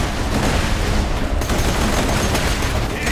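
Dense, continuous gunfire and blasts in the shooter game Borderlands 2 form a loud wall of rapid shots and booms that runs for several seconds without a break.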